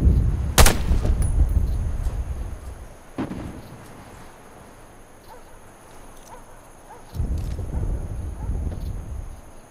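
Sniper rifle shots in the video game Warface: a sharp, loud report near the start, followed by two heavier, more distant-sounding blasts spaced several seconds apart against steady background hum.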